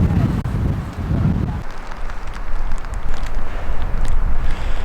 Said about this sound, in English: So the wind is really whipping around like crazy up here.